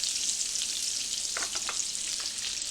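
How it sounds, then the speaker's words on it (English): Steamed cauliflower frying in butter in a pan, a dense, steady sizzle close up, with a few brief stirring clinks partway through. "I'm also going to add in some butter because I want to flavor my cauliflower"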